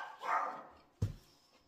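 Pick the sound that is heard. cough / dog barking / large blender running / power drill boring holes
dog barking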